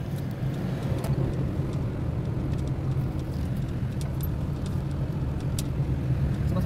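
Steady low rumble of a car driving along a road on a Sunday morning, continuous and fairly close, with no voices.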